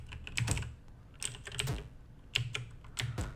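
Commodore 64 keyboard keys are pressed during a game, coming as short bursts of quick clacking taps in clusters with brief pauses between, close and fairly quiet.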